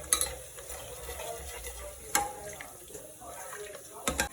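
Spoon stirring chicken with curd in a cooking pot for green chilli chicken pulao, a soft scraping and sizzling texture with a few sharp clinks against the pot, close by.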